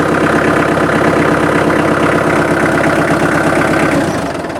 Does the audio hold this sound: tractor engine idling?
yes